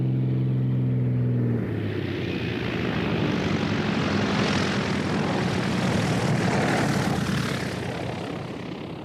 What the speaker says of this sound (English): Before he can land in a remote area, Claytor has to clear the runway.